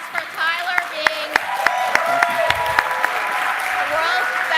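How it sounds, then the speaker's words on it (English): Audience applause at a livestreamed benefit gala honoring Tyler, steady clapping from a crowd under a host's voice speaking over it, with a few sharper individual claps standing out. "A round of applause for Tyler being"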